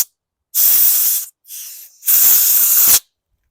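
Aerosol spray of an acetone and ATF mix on a stuck carburetor from a 2018 Toro Recycler lawn mower with a Kohler 6.75 engine: three loud, close hissing bursts, the middle one shorter and weaker, with silence between them.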